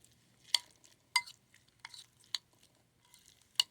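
Potato salad being stirred in a bowl, a faint, sparse series of soft scrapes and clicks from the spoon against the bowl, spaced irregularly every half second or so.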